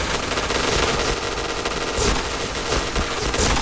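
Machine gun fire in the shooter game Point Blank, a steady, loud, continuous stream of rapid close-range shots throughout with no talking.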